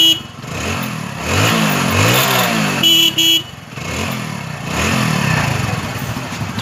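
A motorcycle engine cranks and fires, then revs up and down in repeated rising surges, loud and close, with a short horn-like tone partway through and no talk.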